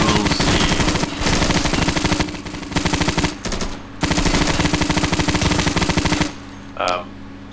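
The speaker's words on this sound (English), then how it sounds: "Machine guns are great." Loud, rapid machine gun fire in the video game Insurgency, with long sustained bursts separated by brief pauses, near and dominant, with a short final burst trailing off.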